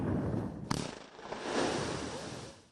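An explosive blast breaks up river ice ahead of the spring flood: a sharp crack followed by a rumbling, rushing roar of debris and water that swells and slowly fades, heard from a distance.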